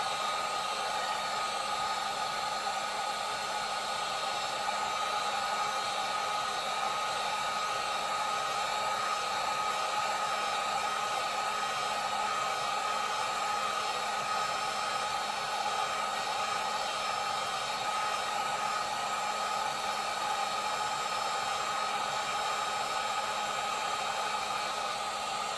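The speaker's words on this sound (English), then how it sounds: "I'll hit it with the heat gun" A heat gun blows steadily over the wax surface of a champagne candle to bring it to a full melt pool, a constant close hiss and whine that holds unchanged throughout with no speech.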